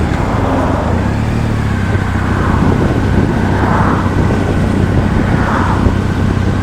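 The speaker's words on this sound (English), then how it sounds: "Oh, look at this traffic." Continuous road traffic noise on Whinlatter Pass in the Lake District, a loud, close broadband rush of passing cars with a low engine drone underneath and gentle swells as vehicles go by, with no talk.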